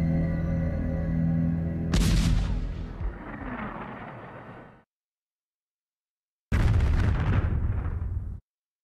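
Two massive, roaring nuclear bomb test blasts: a deep rumbling explosion that swells and fades, then after a pause a second broadband boom cuts off abruptly.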